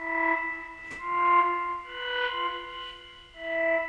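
A sustained Helm synthesizer preset chord with effects, distorted, echoing tones that shift between notes, a brief noisy swish near the start, playing steadily without voices.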